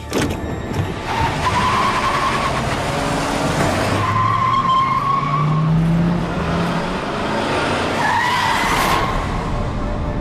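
A car in a TV drama brakes suddenly, its tires skidding and squealing over a loud, steady engine roar that carries through the whole stretch, with the screech rising and falling close by.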